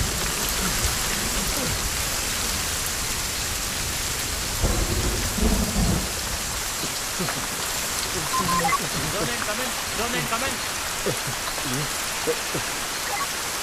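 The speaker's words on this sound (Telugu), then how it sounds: "ఏం వర్షం." Heavy rain pours steadily over a forest ranger outpost with rolling thunder crashing, loudest in a burst mid-way, while a few brief voices sound faintly beneath the downpour.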